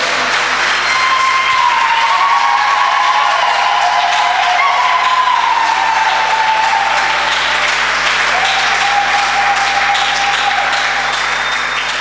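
A church congregation bursts into loud, sustained applause for the Lord, dense clapping filling the room for the whole span, with faint sung or held voices rising over it.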